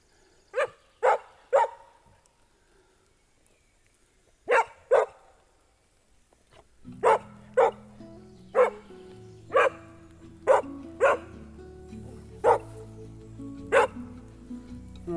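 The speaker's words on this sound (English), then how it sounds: "Oh, dog." A dog barks in sharp separate bursts, first three quick barks, then two more, then a steady run of single barks at regular intervals over a low humming background.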